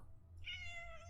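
A cat meows once in a video game, a short, clear, rising-and-falling cry over a low hum of background ambience, with no voices.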